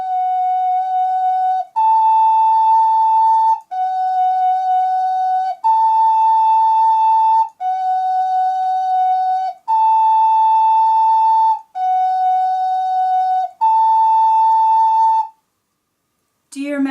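Two ocarina notes alternate in a slow, even pattern, each held for about two seconds with brief gaps between them, repeated eight times. The tones are pure and clear, and a short voice follows at the end.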